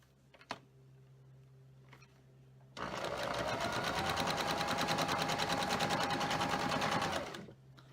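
A sewing machine chain-pieces half-square triangle units for a star quilt block, running in one steady, fast, close stitching burst of about four seconds after a few faint handling clicks.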